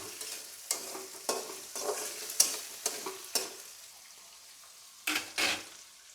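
Potatoes frying in a pan, with a steady quiet sizzle broken by a series of sharp scraping stirs, then a pause and two more stirs near the end, close by and with no voices.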